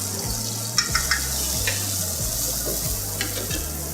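A hash of grilled corn and bacon sizzles steadily in a hot pan, close and loud, with a low repeating hum and a few light clicks from stirring.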